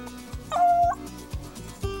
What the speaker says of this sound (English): The dogs soon had another rabbit running